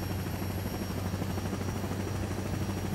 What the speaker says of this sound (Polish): Ale czy tym helikopterem jakoś szybciej?